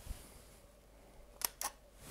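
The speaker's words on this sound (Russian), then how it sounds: "Вы нажимаете кнопку спуска, затвор открывается" Two quick mechanical clicks of a camera shutter close together against quiet background hiss, faint and crisp.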